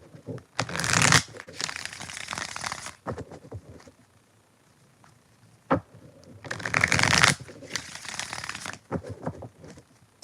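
A deck of tarot cards is shuffled in two loud riffling bursts with softer handling and tapping between them, close up, with no talk over it.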